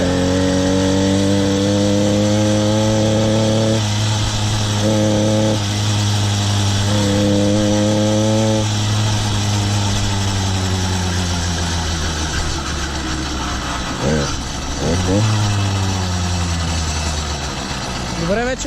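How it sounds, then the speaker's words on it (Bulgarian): A cold motorized bicycle engine idles just after its first start, a loud, close, buzzing two-stroke drone with slight rises and dips in pitch and a brief rev near the end. "В момента не му давам много газ, защото още е студено, но като загрее ще видите."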